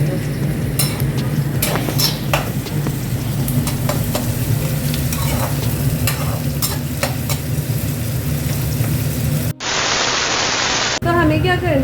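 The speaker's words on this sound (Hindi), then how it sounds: "प्याज को क्रिस्पी रखने के लिए तेज़ पे ही इसे फ्राई करना है, एकदम हाई फ्लेम पे" Onions fry on a high flame for a crispy onion-tomato mix, a loud constant sizzle with stirring clicks and scrapes, briefly interrupted by a cut to hiss near the end.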